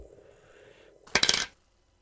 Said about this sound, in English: that sound you heard was me gaining 1 crescent money